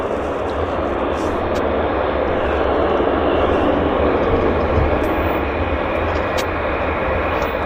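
An airliner on visual approach to runway 08 left at Vancouver International gives a steady, loud, broadband engine roar with low rumble, heard from outside and continuous throughout, without speech.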